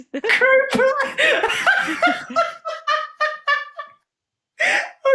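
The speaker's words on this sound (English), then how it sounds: "I wasn't expecting that crow" A rooster crows in a loud, drawn-out call with harmonic cries, close by, followed by a short pause and a brief final burst.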